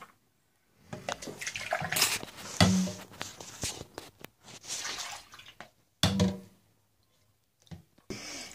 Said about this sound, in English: So you rinse everything. Everything in hot water to reduce any type of bacterial culture.